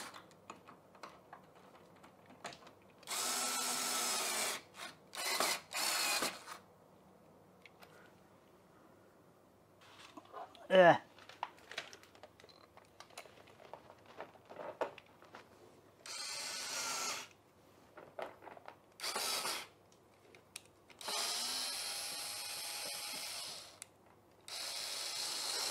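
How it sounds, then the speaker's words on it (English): Screws are tightened while a TV is mounted for use as a monitor, producing quiet bursts of ratcheting, whirring mechanical clicks separated by near-silent gaps. "Screw it tightly. Screw it with confidence."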